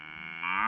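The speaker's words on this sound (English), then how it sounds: "Cows are some of the largest farm animals." A single drawn-out cow moo, close and fairly loud, with a steady harmonic tone that swells stronger in its second half before ending abruptly.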